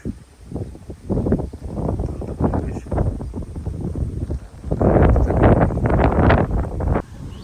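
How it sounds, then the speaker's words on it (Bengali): Wind blowing outdoors under a heavy, cloudy sky before rain, buffeting the microphone in loud, uneven rumbling gusts that rise and fall, strongest near the end. "বাতাস"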